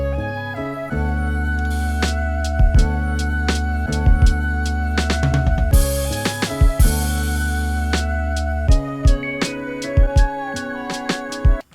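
A sampled hip-hop beat programmed on an MPC Sample, with punchy drums over a looped record sample and no soft clipper on the mix, playing steadily and full for several bars with no voices.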